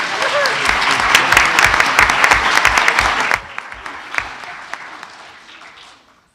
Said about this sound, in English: Give Blake another big round of applause.